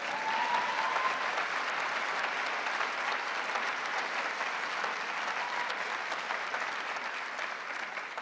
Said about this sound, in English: You can give me a clap for that bit.